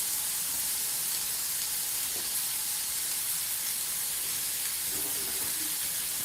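Fish seared in an overly hot pan gives a constant hard, close hiss of spitting oil, loud and steady with no pauses.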